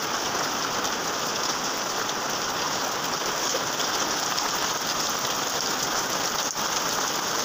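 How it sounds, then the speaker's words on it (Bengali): Heavy morning rain pours down in a steady, dense hiss of drops hitting surfaces close by, loud and unbroken throughout with no voices. "দেখো আমাদের এখানে মশালধারা বৃষ্টি হচ্ছে, সকাল সকাল একটু বৃষ্টি হচ্ছে"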